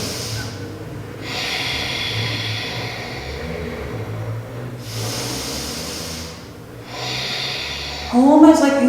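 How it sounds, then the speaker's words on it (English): Long, deep yoga breaths in the style of Ujjayi breathing, slow airy inhales and exhales with a throaty hiss, close to the microphone, repeating in long cycles before a voice speaks at the end. "we're going to take a powerful, long, deep breathing. So breathing in."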